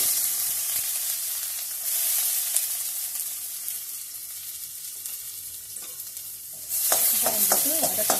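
Onion and cumin sautéing in a little oil for drumstick soup, a steady close sizzle with stirring scrapes throughout, growing louder and busier near the end.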